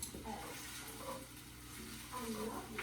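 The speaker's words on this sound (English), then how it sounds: "You got to keep stirring it, though, so it doesn't stick." Chicken fried rice sizzling and frying in olive oil and butter while being stirred, a steady close crackle with faint scraping, and a voice speaking over it now and then.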